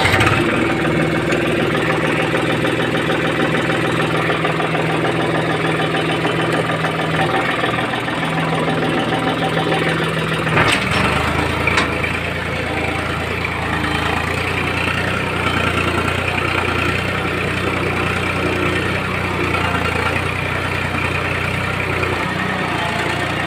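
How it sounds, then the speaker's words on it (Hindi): A diesel tractor engine runs at a steady idle, its low droning hum and knocking pulse continuous and close, with a brief clatter partway through as the tone shifts slightly lower. "तो लेट्स स्टार्ट द ट्रैक्टर।"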